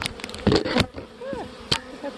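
Honey bees buzz at a hive being fed, including a double-queen hive with a nuc on either side, heard as a close, steady insect drone with a few louder passes.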